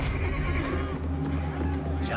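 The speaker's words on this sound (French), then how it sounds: "Et alors parut un cheval blanc." A white horse whinnies in a drama scene, a loud, drawn-out neigh over a low rumbling background, with someone speaking briefly.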